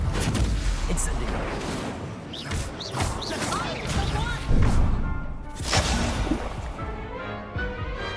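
Spell combat in a Harry Potter video game on a Hogwarts visit, with an Incendio fire spell cast amid repeated crashing, thudding impacts and whooshing effects, a loud dense battle mix with a voice calling out spells.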